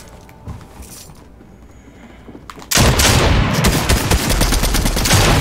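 An MK7 rifle in a video game opens fire after a quiet stretch, launching into a loud, continuous burst of rapid shots that fills the rest of the moment.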